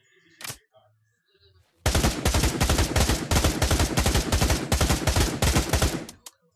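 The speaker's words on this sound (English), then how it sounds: "This unloaded a full mag on this fool." Rapid automatic gunfire in the virtual reality shooter Pavlov, a full magazine emptied in one sustained burst of loud, evenly spaced shots after a single earlier shot, ending abruptly.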